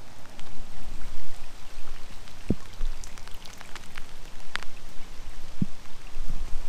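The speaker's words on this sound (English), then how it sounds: "We're going to be spending some time in the rain." Steady rain falls outdoors on a morning dog walk, a dense even hiss of drops with a few sharper close taps, continuous and fairly close.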